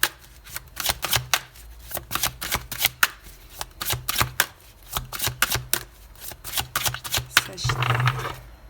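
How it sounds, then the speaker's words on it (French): Tarot cards are shuffled by hand up close in a fast, riffling rhythm of crisp slaps and flutters. A brief rustle near the end suggests the cards being spread out. "Allez, on va poser les 8 cartes."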